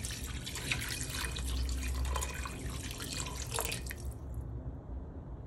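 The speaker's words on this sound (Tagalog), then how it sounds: "Pagkatapos lagyan natin ng tubig." Water pours steadily into a pot of goat caldereta simmering with soy sauce, a continuous splashing trickle that ends near the close, with no talking over it.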